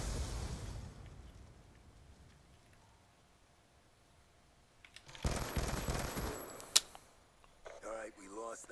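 Gunfire bursts from a one-on-one online shooter match, arriving as a cluster of sharp, clipped shots in the latter half after a quiet stretch, with a loud crack standing out near the end.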